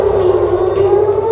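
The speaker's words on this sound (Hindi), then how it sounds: "इस हमले के बाद सिर्फ सायरन की आवाज सुनाई दे" Air raid siren wailing over Tel Aviv after a missile attack, a loud steady tone held throughout the short moment.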